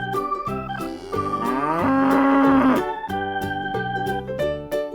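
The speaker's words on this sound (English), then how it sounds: "This is a cow." A cow lets out one loud, sustained moo lasting about a second and a half, rising out of and set against a steady bouncy children's music backing track that plays throughout.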